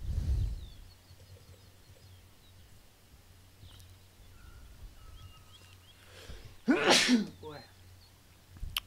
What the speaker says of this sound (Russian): аж вот этот чихнул аж до слез